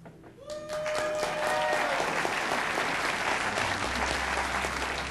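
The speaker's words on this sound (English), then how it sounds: "we'll applaud for our favorite person" Studio audience on a talk show bursts into loud, sustained applause for a contestant named Mark, a dense wash of clapping that swells within the first second and holds steady to the end, with a few cheers and whistles near the start.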